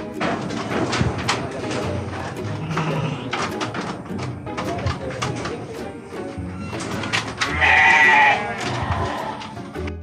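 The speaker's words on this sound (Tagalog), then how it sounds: "yung mga iba't ibang klase na kambing" Various breeds of goats on a farm bleat repeatedly in a lively chorus, some near and some farther off, with bird calls and brief talk mixed in.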